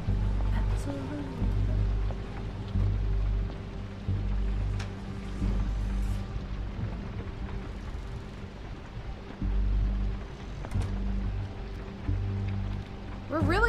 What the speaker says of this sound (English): We're really lucky that it's raining.